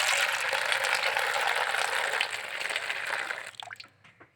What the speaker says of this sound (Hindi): ले भाई, डालें पानी इसमें